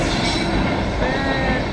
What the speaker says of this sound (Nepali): ट्रेन पास हुँदैछ